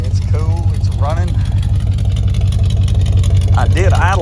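A 1972 Chevrolet truck engine idles steadily with a low, even rumble, heard up close throughout while a person talks over it.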